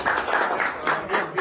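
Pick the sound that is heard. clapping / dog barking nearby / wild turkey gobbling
clapping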